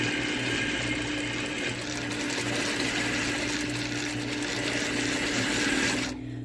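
A sewing machine runs steadily and fast, stitching a ruffle along a fabric edge for a little girl's dress, with a continuous close whir that stops abruptly near the end.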